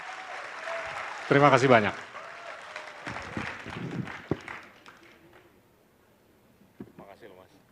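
An audience applauds a speaker at the Jakarta Future Festival, a brief round of clapping rising under a host's voice and fading away as talking continues.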